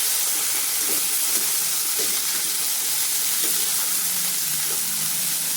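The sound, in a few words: cabbage, carrot and peas stir-frying on full flame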